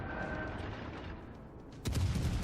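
Naval gunfire in the Iwaki Last Stand video game: steady rumbling barrage and scattered shots, then a louder burst of heavy booms near the end.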